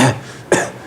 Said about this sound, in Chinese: 想把这个痰咳出来